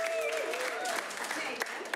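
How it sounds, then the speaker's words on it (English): A studio audience gives a short round of applause, light clapping mixed with voices. "Give her a round of applause."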